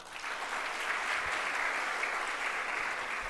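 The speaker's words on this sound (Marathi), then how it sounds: "तुमच्यासाठी एक जोरदार टाळ्या वाजवा." An audience applauds, a dense, steady wash of clapping from many hands held throughout at moderate distance, with no speech over it.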